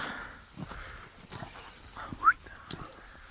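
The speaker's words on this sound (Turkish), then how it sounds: "Etraftan köpek havlamalar geliyor." Dogs bark somewhere in the surroundings of a snowy outdoor spot, a few short, faint barks sounding from a distance over quiet background noise.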